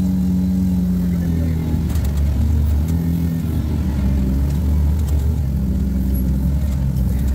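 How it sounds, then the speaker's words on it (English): A steady, loud engine roar from an off-road rig working over rocks, a constant low rumble that fills the whole stretch with no break and no talk. "over the roar of the engine"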